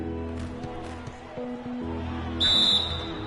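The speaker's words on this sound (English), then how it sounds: "So the whistle blows on the shot" A referee's whistle sounds at an NBA playoff basketball game between the Rockets and Thunder, one sharp shrill blast lasting under a second, cutting through arena crowd noise and a commentator talking.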